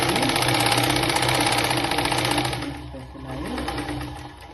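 Sewing machine running steadily while stitching a blouse, a loud, continuous motor whir with a fast needle rhythm that eases slightly in the last seconds.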